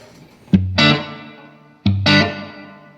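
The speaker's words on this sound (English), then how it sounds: "Just a great sounding delay right there" Two strummed guitar chords through an Ibanez ADL analog delay pedal, each followed by soft, warm repeating echoes that fade out between strums.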